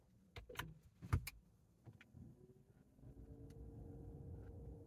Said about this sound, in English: fixing to start up his car, his electric vehicle